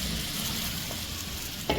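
Pumpkin pieces cook in a pan over a medium flame with a low, even sizzle and a brief clatter near the end, nobody speaking.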